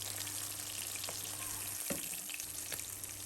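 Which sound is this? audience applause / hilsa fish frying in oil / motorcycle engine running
hilsa fish frying in oil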